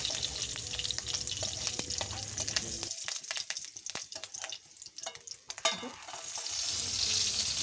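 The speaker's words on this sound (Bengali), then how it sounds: "এর মধ্যেই মাছগুলো ভালোভাবে ভাজা হয়ে গেল," Snakehead (shol) fish frying in oil in a pan, a moderate close crackling sizzle with sharp spits and pops that thins out in the middle before swelling again.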